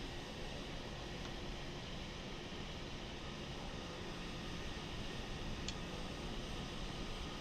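Simulated Mitsubishi MU-2 turboprop engines in MSFS 2020 on the takeoff roll in Hawaii, giving a steady, even roar of broadband engine noise that holds constant throughout without voices.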